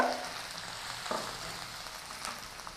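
Grated ginger and asafoetida tempering in hot oil give a quiet, even sizzling hiss with a soft knock partway through, fairly faint and with no one talking.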